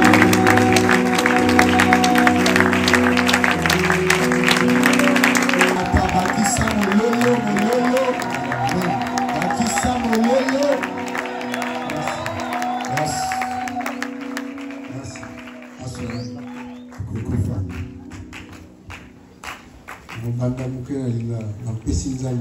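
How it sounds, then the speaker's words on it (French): A church congregation at a prayer gathering in the Brazzaville congress palace applauds and cheers loudly over music, and the clapping fades as speech and singing continue. "Acclamons encore le Seigneur"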